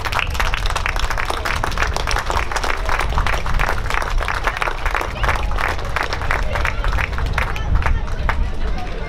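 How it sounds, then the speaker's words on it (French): Applause from a crowd at the Chenôve town festival in France, a steady dense patter of many hands clapping at fairly close range for the full stretch, with a murmur of crowd noise beneath it. "je suis persuadé qu'il mérite de très chaleureux applaudissements"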